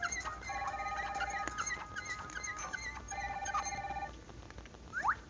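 A cartoon telephone rings in a desert classroom scene, two bursts of repeated electronic trills separated by a pause, clear and fairly close over light background sound, with a brief rising squeak at the end.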